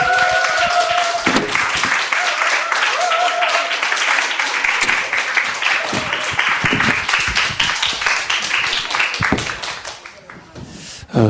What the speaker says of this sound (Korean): 우리 감사히 큰 박수로 목사님을 맞이하겠습니다.